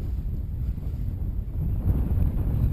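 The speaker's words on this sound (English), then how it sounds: "this offshore wind is a little bit stronger than I thought" Strong offshore wind buffeting the microphone while kayak fishing near a reef on the ebb tide, a loud continuous low rumble that swells slightly toward the end, with no talking.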